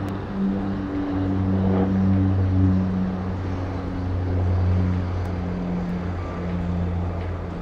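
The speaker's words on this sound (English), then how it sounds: "here we've got a Saab 340B, and we've just taken off runway 34 left" A Saab 340B turboprop climbing away after takeoff from runway 34 left at Sydney Airport, with a steady, droning propeller and engine hum heard from inside the cabin, holding level without talk.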